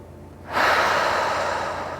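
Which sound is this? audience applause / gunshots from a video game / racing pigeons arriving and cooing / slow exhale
slow exhale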